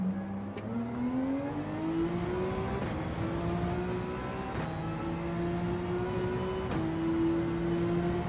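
Race car engine in Gran Turismo 7 during a rainy manufacturer race at Spa, revving steadily with rising pitch and brief gear-shift dips, continuous and close with no talk.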